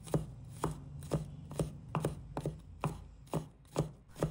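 A knife chopping crushed garlic into mince on a cutting board, around ten crisp, evenly spaced strikes at a steady rhythm, close and fairly quiet, with no talking.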